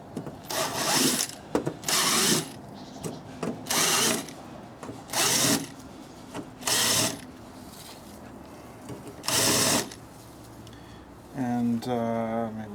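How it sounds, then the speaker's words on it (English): A hand deburring tool grinds in short, repeated bursts at freshly drilled holes in a model locomotive roof, each twist lasting about a second with brief pauses between, and a voice speaks near the end. "So I'm just going to deburr these holes."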